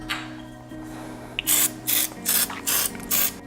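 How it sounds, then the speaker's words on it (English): Cooking spray hisses onto a non-stick loaf pan in five short, bright bursts, each lasting a fraction of a second with brief gaps between, close and clear over a steady low hum. "I always try spraying my loaf pan or greasing it a little before I stick it in"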